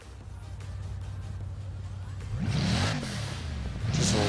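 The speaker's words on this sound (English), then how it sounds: "Just listen to the sound of that car. It's insane. And of course, it's spitting flames." A Bugatti Chiron revs in Forza Horizon 4. A steady engine drone builds into a louder, rising rev, backs off, then climbs again near the end, with a whooshing edge.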